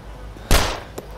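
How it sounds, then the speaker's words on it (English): A single loud gunshot from the video game DayZ, set on Namalsk, cracks out sharply and decays over a fraction of a second, followed by a fainter distant pop; no one talks. "me shooting."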